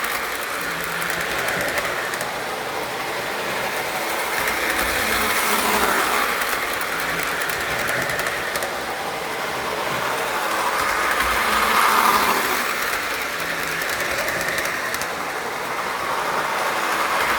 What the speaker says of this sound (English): This is on a Pennsylvania Flyer train set.